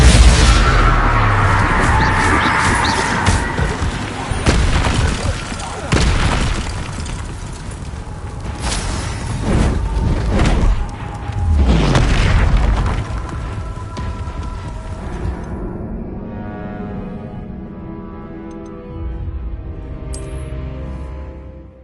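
Spell explosions from Confringo and Bombarda in the Hogwarts Legacy video game: a series of loud booming blasts and crashes, several heavy impacts in quick succession, then a fading rumble.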